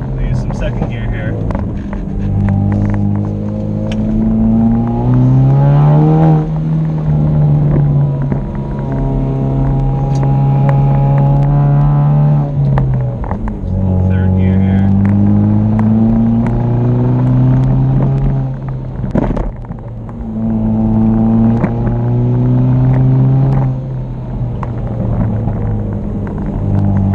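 A 2016 Camaro engine drones loudly in second gear, rising in pitch as it accelerates and dropping at each lift, repeating several times over the stretch, with a voice talking at times over the cabin noise.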